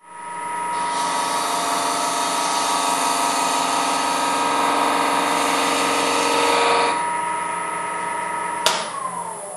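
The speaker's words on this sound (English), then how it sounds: "I'm going to use my 1/4 inch spindle gouge and just round off" A wood lathe spins steadily as a 1/4 inch spindle gouge rounds off a turned wooden salt shaker, a loud continuous whirring tone that winds down near the end, followed by a brief knock.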